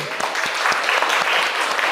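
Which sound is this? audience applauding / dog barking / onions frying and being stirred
audience applauding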